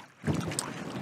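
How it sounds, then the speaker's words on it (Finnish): Wind gusts across a seaside tent site in Norway during a hike, a rough, breathy rush buffeting the microphone, rising after a brief quiet start and staying steady and close. "paikka on ehkä pikkusen tuulinen"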